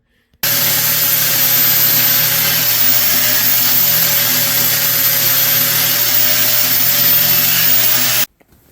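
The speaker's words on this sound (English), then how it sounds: "I'm going to turn it on the drill press and just grind these down as they're turning" A drill press spins nuts for a Honda CB450 Nighthawk motorcycle while they are ground down, making a loud, steady, continuous grinding whine with a constant motor hum that runs for about eight seconds and then cuts off abruptly, with no talking.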